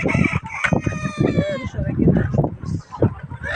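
Hens on a poultry farm of about 1000 birds cluck and call repeatedly close by, their cries running under a steady conversation between people.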